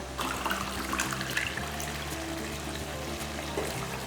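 Water being poured steadily into a pot of rice, a continuous splashing gush at moderate volume with no voices.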